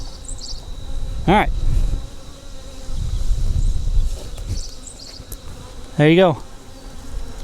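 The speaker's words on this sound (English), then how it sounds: "we have a successful swarm trap out." A honeybee swarm at a swarm trap, a low steady insect drone punctuated by two louder close buzzing passes as bees fly near, with a short spoken phrase in between.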